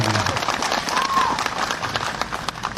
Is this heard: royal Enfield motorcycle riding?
no